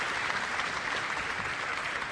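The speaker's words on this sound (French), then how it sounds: "Encore des applaudissements, bien sûr." Sustained audience applause at a regional award ceremony, a dense, steady wash of many hands clapping at even loudness throughout, with no voices over it.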